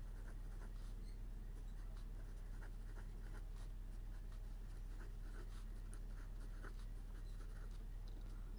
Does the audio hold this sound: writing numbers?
yes